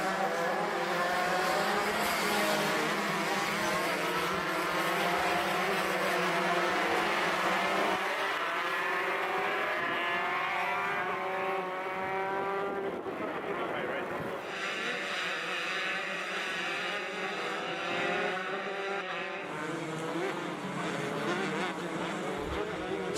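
A pack of 4-cycle racing karts at Adams Motorsports Park drones continuously around the track, buzzing engines rising and falling as they pass through corners, with a race commentator talking throughout.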